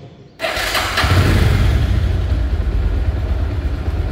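Bajaj Discover 135 motorcycle engine starting and then running steadily at idle, a close, loud, continuous mid-range exhaust note through the silencer with no talking.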